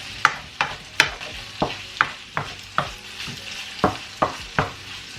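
A utensil stirring kangkong stems into sizzling beef fried rice in a pan: a regular series of about a dozen sharp scraping strokes, close and loud over a constant frying hiss, with no talking.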